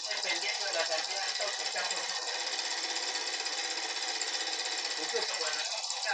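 An alcohol-fuelled engine hooked up to a generator runs steadily and loudly up close, a dense rapid mechanical clatter throughout, with faint voices in the background.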